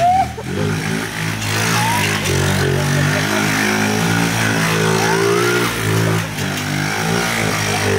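A motorcycle pulls away and accelerates nearby, its engine droning loud and steady with rising and falling pitch throughout, while voices are faintly audible over it.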